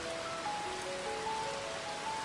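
Steady rain falling in a soft, even hiss, constant and moderately loud with faint tonal notes over it and no voices.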